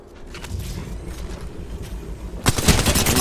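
Gunfire in Apex Legends during a firefight: rapid automatic shots rattling steadily, swelling into a louder, denser burst of fire near the end.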